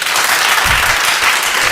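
Audience clapping at a live comedy show, a dense burst of applause from a crowd filling the whole clip at steady loudness.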